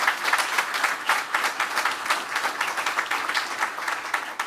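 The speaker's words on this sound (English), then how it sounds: "Give him a round of applause." An audience at a political event in Philadelphia breaks into steady, dense applause, many hands clapping together at moderate loudness for several seconds without a pause.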